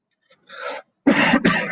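A person coughs in a quiet room: one short muffled cough, then after a pause two loud, harsh coughs close together, each sharp and near.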